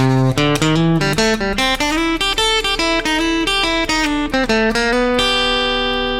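A guitar plays a quick, bright country lick of plucked, bending notes in a steady run, ending on a sustained ringing note.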